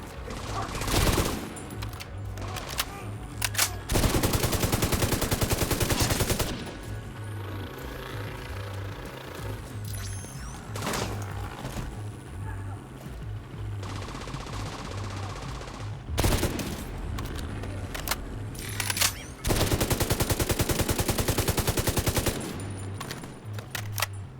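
Automatic gunfire in the shooter game The Division 2 comes in long sustained bursts separated by shorter pops and scattered shots, loud and close over a steady low rumble of battle, with no talking.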